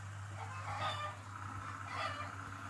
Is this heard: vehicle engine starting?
no